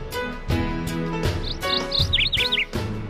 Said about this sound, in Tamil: சிறிய பறவையான சிட்டுக்குருவி,